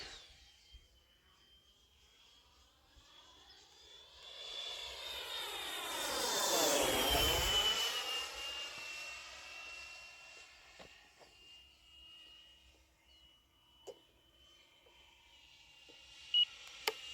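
A Freewing 90mm F-18 Blue Angel RC jet on its maiden flight, the ducted-fan whine building as it approaches, then a sharp pitch drop as it flies past overhead and fades, with a few faint clicks near the end.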